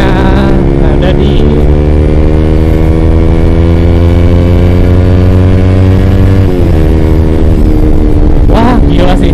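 A Honda CBR 150R motorcycle revs in third gear, its engine droning loud and close with a steady rising pitch, dipping briefly near the end before climbing again.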